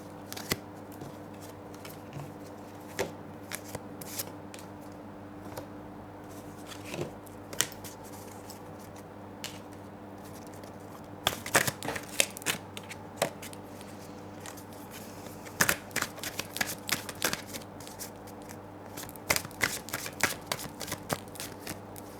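Tarot cards shuffled and laid out for a Scorpio singles reading, with soft scattered rustles and sharper slaps of cards on a surface, quiet and close, heard alone and more frequent toward the end.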